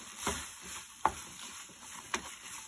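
Garlic tomato pasta with a little olive oil being tossed in a pan over raised heat gives a soft continuous sizzle, broken by a few brief clinks and scrapes from stirring, close and fairly quiet.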